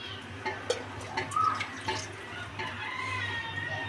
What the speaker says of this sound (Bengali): দিয়ে দেবো আরেকটু পানি।